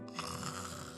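A person napping in a bunk snores once, a faint, drawn-out raspy breath heard up close in a quiet room.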